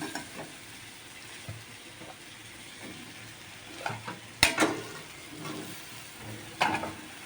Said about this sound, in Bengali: তো সোয়াবিনটা দিয়ে ভালো করে নাড়িয়ে চাড়িয়ে যাতে মশলাগুলো সোয়াবিনের মধ্যেও ঢোকে